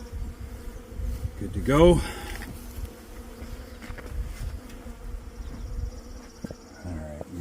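Agitated honeybees buzz loudly and continuously around an opened beehive during a spring inspection, a dense close hum with individual bees zipping past, while a person speaks briefly.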